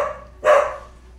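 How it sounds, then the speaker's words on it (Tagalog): A single sharp dog bark, close and fairly loud, then quiet. "Maingay dito, nandito ang aso namin."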